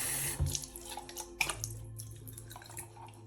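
A neti pot is rinsed under a running tap, with brief splashes and drips of water at a sink over a few seconds, close and fairly quiet.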